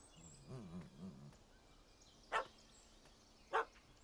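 Two sharp, separate dog barks sound in The Witcher 3, with quieter voiced sounds beforehand and a soft ambient hush between them.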